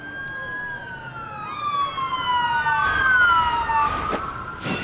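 An ambulance siren sounds in the video game Trauma Team, a clear wailing tone sweeping up and down and growing louder toward the middle, heard alone without talk.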